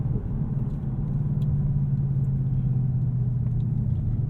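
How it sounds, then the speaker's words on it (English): A 2018 Ford Mustang GT Premium with Performance Pack, heard from inside during a test drive, holds a steady low engine rumble while rev-matching on a downshift. The drone is loud and continuous, with only slight swells and no talking. "See how blipping it is for rev matching."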